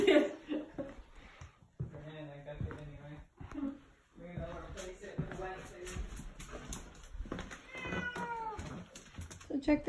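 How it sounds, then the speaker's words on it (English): A cat meows several times close by, mixed with people talking and light laughter in the room. "She's still purring like really loud"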